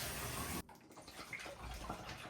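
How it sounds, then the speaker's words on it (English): A hydration water pack gets rinsed under a running tap, a loud rush of water that cuts off abruptly, followed by quieter splashing, dripping and handling sounds. "I'm really bad at cleaning my water pack, so I'm just gonna go ahead and rinse it out a little bit"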